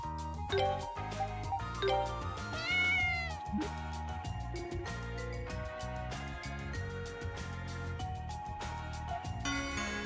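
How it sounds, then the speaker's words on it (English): Repeated meows from a game cat in Ys: Memories of Celceta ring out over a busy musical score, several distinct calls spread across the span with no voices. "Does cat want Cheetos?"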